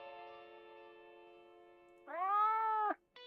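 An upset cat meows in the video game Your House, a long drawn-out tonal cry followed by a louder rising, echoing wail that cuts off abruptly, then a short clipped start of another sound.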